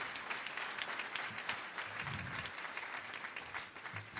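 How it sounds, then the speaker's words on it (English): A crowd at a Champ Camp fundraising event gives a sustained round of applause, dense scattered clapping continuing evenly throughout at moderate volume. "Give yourselves a nice round of applause for supporting Champ Camp once again."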